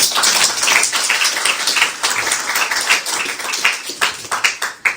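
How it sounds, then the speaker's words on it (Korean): A church congregation at an Easter joint worship service in Madrid claps to welcome an interview guest, a loud, close burst of applause that thins out toward the end into a few scattered claps. "아멘으로, 박수로 한번 환영해 주시면 감사하겠습니다"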